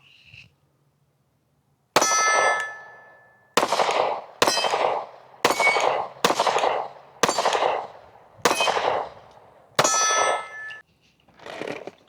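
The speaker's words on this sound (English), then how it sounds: "so let's shoot some steel" A Canik Mete MC9 pistol fires at steel targets, each sharp shot followed by a ringing metallic clang; eight evenly spaced hits ring out, with a fainter final one.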